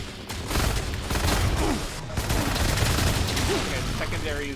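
Rapid full-auto bursts from a nail gun in a retro-style shooter game, dense repeated cracks over continuous combat noise, with people talking over the firing.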